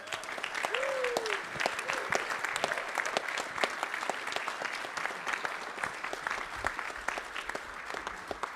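An audience gives a trombonist a steady round of applause at a band concert, the clapping moderately distant and constant, with a voice briefly heard at the start.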